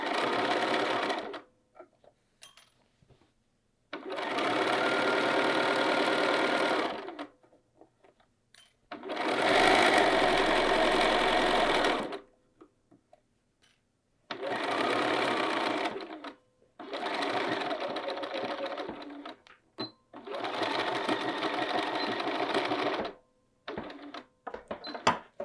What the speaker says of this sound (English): we're just going to sew the rest of the way across